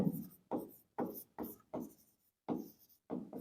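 Chalk or marker strokes on a board while a maths problem is worked through, seven distinct scratchy strokes in an uneven rhythm separated by brief silences, close and clear.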